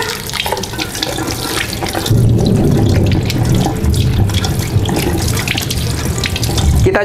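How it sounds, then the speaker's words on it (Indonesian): Tap water runs steadily into a sink while peeled cassava is washed by hand, a constant close splashing stream with small shifts in flow and no talking. "sekarang kita mau mencuci singkongnya."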